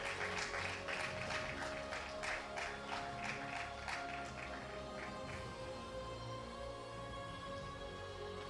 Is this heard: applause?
yes